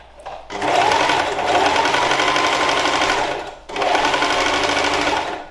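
Sewing machine stitching a seam on an oilcloth tote bag, running loud and steady in two long bursts with a short pause between them.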